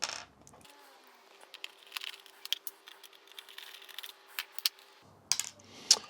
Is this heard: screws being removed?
yes